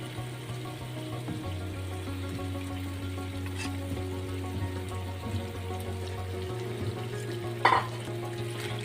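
Half a kilo of chicken fries in a pan with ginger garlic masala for a chicken kulambu, giving a steady moderate sizzle with occasional stirring scrapes and a brief clatter near the end.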